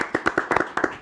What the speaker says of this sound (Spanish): También aplausos.